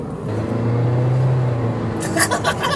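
A 2023 Toyota Prius accelerates in sport mode, giving a steady, fairly loud low engine drone that holds for about two seconds before a rougher burst of road and motor noise near the end, with no talk.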